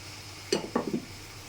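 Pieces of hilsa fish go into hot oil with mustard spices, giving two or three brief close clattering sizzles over a quiet low hiss.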